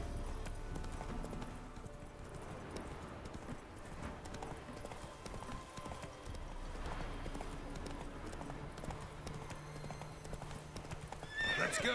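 In The Witcher 3: Wild Hunt, a horse gallops with a continuous rhythmic clatter of hooves under a faint game soundscape, with a brief neigh and a louder burst near the end.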